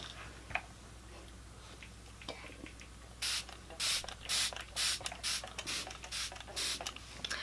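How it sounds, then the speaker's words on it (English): A quick series of sharp spritzes from a face primer spray bottle, about a dozen short bursts in an uneven rhythm, close and fairly soft, after a few faint clicks. "So she's gonna spray my face."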